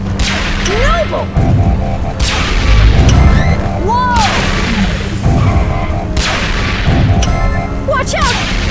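Repeated blasts and shots ring out in the Transformers Rescue Bots video game, with booms and crashes layered over a steady barrage of action effects and electronic whooping tones throughout.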